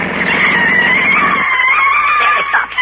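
Car tires squealing in a sharp swerve and skid to a stop, a loud sustained screech that drops as the engine rumble cuts out, ending in a few ragged scrapes, radio drama sound effect.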